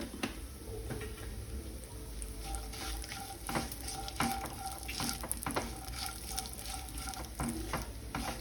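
Raisins fry in hot ghee in a pan, a continuous close sizzle with light crackles and scattered clicks of stirring, and no talking.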